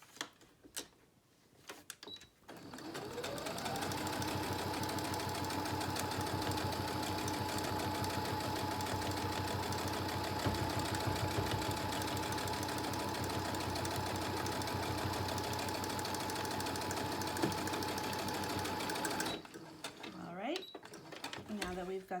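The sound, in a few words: sewing machine stitching a fabric mask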